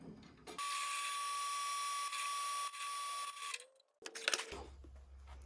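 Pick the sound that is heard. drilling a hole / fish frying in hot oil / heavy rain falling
drilling a hole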